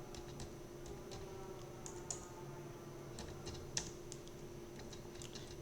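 Computer keyboard typing in accounting software: a faint run of quick, close key clicks in uneven bursts over a quiet background hum.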